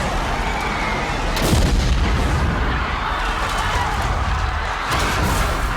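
Grease gun gunfire in a WWII movie scene, dense sustained automatic bursts with booming low end and a couple of sharper cracks, loud and continuous throughout.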